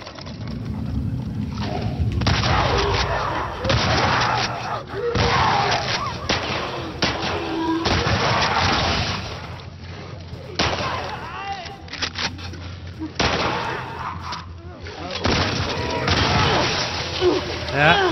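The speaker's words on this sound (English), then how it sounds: "I will shoot you with a shotgun." Heavy shotgun blasts in The Last of Us Part II come as several separate booming shots amid other in-game noise, with someone talking intermittently between them.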